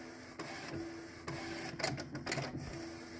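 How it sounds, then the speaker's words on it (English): An Epson EcoTank 8550 printer prints a DTF transfer film, with faint whirring carriage passes and sharp mechanical clicks and clacks at moderate volume, no voices. "I'm going to go ahead and get this printed out, and then I will meet you over um, at my Epson EcoTank"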